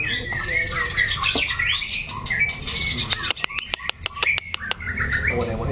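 A young white-rumped shama, caged on a display stand, sings loud, varied whistling phrases up close, then breaks into a rapid series of sharp clicks before resuming its song.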